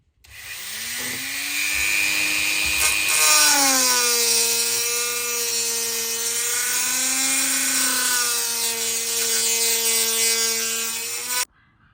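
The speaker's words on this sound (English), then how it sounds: "I'm going to try and attempt to cut it with this Dremel" A Dremel rotary tool with a cutting disc working on a fuel pump access panel, a loud continuous high whine that sags and recovers in pitch as it bears down on the cut, then stops abruptly.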